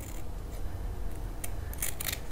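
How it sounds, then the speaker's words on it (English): Scissors snip fabric circles for flower petals, giving a few close, crisp cuts clustered toward the end over a quiet background. "So I'm going to cut some smaller circles here."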